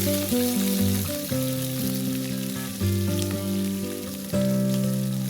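Onions sizzle and crackle steadily in hot oil while background music plays over it.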